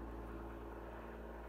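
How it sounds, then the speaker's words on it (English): An airplane passes overhead as a steady, low, even rumble of engine drone lasting throughout, distant and without any talk. "It's an airplane. That's not a helicopter."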